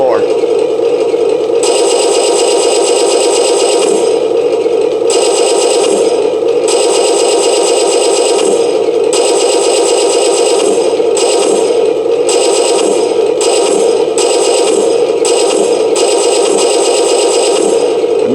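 Loud electronic machine gun sound effect from an Imex M-26 Pershing RC tank with V3 electronics, imitating a .50 cal in long choppy bursts, ending with a brass casing clinking to the floor.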